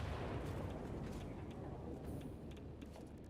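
A thermonuclear device detonates in the factory game Satisfactory with a loud, sustained roaring blast and rumble that slowly trails off, with faint crackles near the end.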